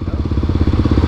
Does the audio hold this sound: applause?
no